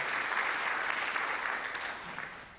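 Steady applause from a symposium audience, dense clapping throughout that begins to taper slightly near the end.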